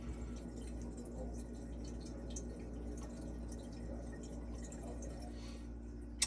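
Water drains from a newly leveled lower sink pipe and washing machine line as a faint, steady trickle and drip with a low hum underneath, ending in a single sharp knock.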